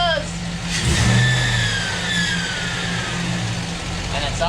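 A Chevrolet Silverado pickup with a swapped-in V8 engine revs up sharply under throttle after idling, then settles back to a steady mid-pitched idle, loud and close.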